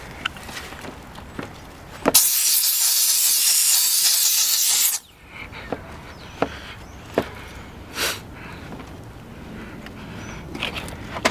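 A steam cleaner blasts a steady, loud hiss of steam into a car engine bay for about three seconds, then cuts off abruptly, leaving faint clicks and handling noises.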